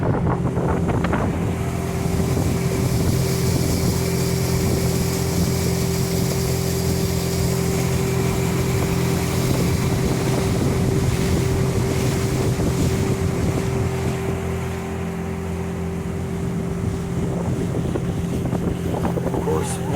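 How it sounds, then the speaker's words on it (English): A 2023 Lowe 162 pontoon boat driven by a Mercury 25HP outboard, its steady motor drone running continuously under power on open water, mixed with heavy wind buffeting the microphone and some water rush. "I'm going to show the motor running under power here."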